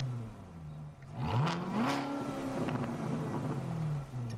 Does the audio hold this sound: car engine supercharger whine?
yes